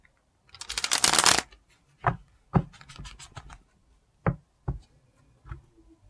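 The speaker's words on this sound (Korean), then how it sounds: "자, 셔플 한 번만 할게요." A deck of tarot cards is riffled in one long close shuffle, followed by several sharp taps and small clicks as the deck is squared and handled in quiet surroundings.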